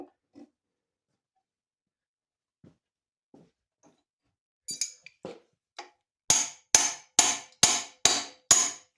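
A rusted crankshaft inside a 1948 Case VA tractor engine takes six sharp, loud metallic hammer blows in a steady rhythm, after a stretch of scattered faint clinks and knocks.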